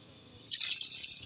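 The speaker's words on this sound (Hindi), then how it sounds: "अब चावल डालने से पहले पानी डाला जा रहा है" Water pours into a cooking pot for chicken biryani, a brief close burst of splashing and trickling that starts abruptly after a quiet moment.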